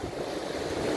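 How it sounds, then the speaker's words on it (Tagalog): Strong surf rolls in steadily at Layo-Layo Beach Cove Resort in Nasugbu, Batangas, a continuous washing roar of heavy waves with wind buffeting the microphone and no talking. "Nakataas kasi malakas ang alon."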